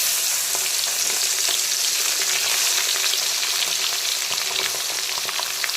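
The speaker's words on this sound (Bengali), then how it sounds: "এখন লবণ আর হলুদ মাখানো কাজলি মাছগুলোকে আমি তেলের মধ্যে দিয়ে দেব।" Kajli fish rubbed with salt and turmeric frying in smoking-hot oil, a loud, dense, continuous sizzle with scattered sharp crackles and pops, heard alone without any voices.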